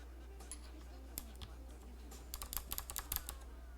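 Keys tapped on a ph60 keyboard with rare Pro World clicky switches, super heavy springs and metal keycaps, scattered sharp clicks at first, then a quicker burst of close typing over a low background hum.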